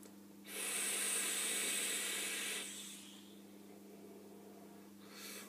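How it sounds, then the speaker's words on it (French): A long, steady hiss of vapour exhaled from an e-cigarette running a full-VG liquid, lasting about two seconds and then fading into a quieter breathy tail, with no talking. "très belle vapeur, c'est normal, on est en full VG"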